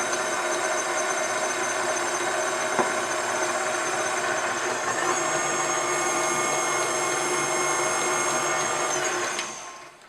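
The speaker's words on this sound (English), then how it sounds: "I'm going to slowly mix that in. And while that's mixing, I'm going to add about half of the buttermilk" An electric mixer blends cupcake batter as buttermilk goes in, a steady close whirring motor drone that runs evenly for several seconds, then winds down and stops at the end.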